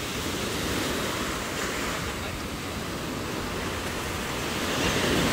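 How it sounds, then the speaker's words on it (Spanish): Strong surf pounds a beach at Los Cobanos, El Salvador, as a continuous loud roaring wash with wind noise buffeting the microphone throughout, swelling slightly near the end. "el agua está sucia porque las olas están muy fuertes"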